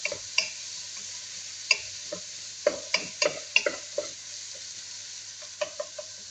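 Hot peppers fry in a pan with a steady, close sizzle, while a utensil scrapes and taps the pan in scattered clicks and stirs. No one speaks.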